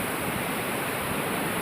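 Water pours steadily over Bahuda dam (Nimmanapalli Project, Madanapalle) in the rainy season, a loud, continuous broadband rush with no breaks and no voices.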